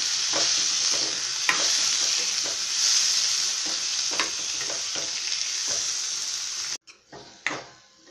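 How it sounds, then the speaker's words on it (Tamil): Chopped tomatoes sizzle and fry in a pan for chilli chutney while a spoon stirs them in repeated scraping strokes, close and loud, then the sizzling briefly cuts out near the end. "அதில் 3 தக்காளி நறுக்கி வச்சுருக்கோம்,"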